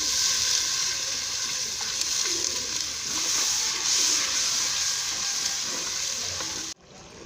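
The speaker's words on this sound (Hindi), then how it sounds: "हमने इसमें पानी इतना ऐड करना है कि मसाले की भुनाई अच्छी तरीके से हो जाए।" Spices with tomato, red chili, turmeric and salt sizzle loudly and steadily in a pan for a potato chicken curry after water is added, a continuous close hiss that cuts off abruptly near the end.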